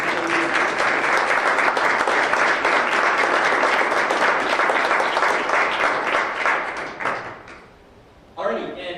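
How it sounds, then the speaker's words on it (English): Audience applause for student presenters at a startup pitch tournament, dense steady clapping for about seven seconds before fading, then a brief resumption at the end. "I want to give one last round of applause to all of our presenters."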